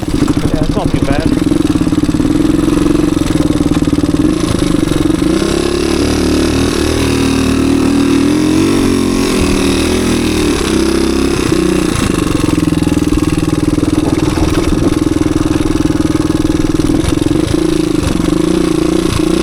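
A low-hour 1985 Suzuki DR250 motorcycle rides through the woods with a loud, close, continuous engine drone that shifts as the throttle changes, while a rider talks over it.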